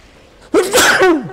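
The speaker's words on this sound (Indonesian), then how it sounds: "Bersin, teman-teman." A single loud, close human sneeze with a sharp intake and burst, in an otherwise quiet moment.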